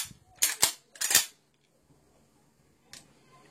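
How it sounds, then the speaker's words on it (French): A shotgun shell is pushed into the two-round magazine extension of a Remington 870 pump shotgun. Two quick pairs of sharp metallic clicks come close and clear, followed by a quiet pause and one lighter click, with no talking. "On peut maintenant y insérer cette cartouche"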